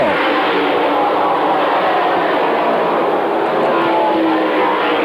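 Modified stock race cars roaring around Stafford Speedway in 1986, a dense, loud and steady engine roar from several cars at once that fills the whole stretch without a break.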